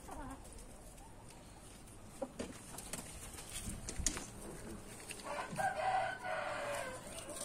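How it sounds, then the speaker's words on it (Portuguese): A rooster crows on a small poultry farm, one fairly close crow rising near the end over quieter clucks and scattered farmyard noises. "E ele tá aí, uma maravilha de um galo."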